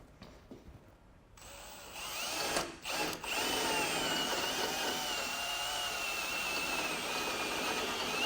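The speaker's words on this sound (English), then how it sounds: "continue to drill straight through out the side of this part of the frame" A few faint clicks, then a power drill whirs up and grinds steadily through a 2021 vehicle's metal frame, a loud, continuous high whine close by with a brief stutter early on.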